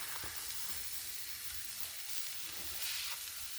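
Shrimp skewers seasoned with Old Bay sizzle steadily on a griddle, a close, even frying hiss with faint crackles and a few soft clicks, no voices.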